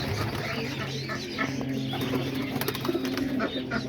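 Homing pigeons in a loft coo and rustle steadily, soft throaty calls with light flutters and clucks continuing throughout, close and moderately loud.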